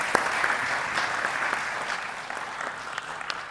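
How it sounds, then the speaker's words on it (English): An audience claps for a conference panel, a dense sustained round of applause that holds steady and tapers slightly toward the end. "A round of applause, please, for my panelists."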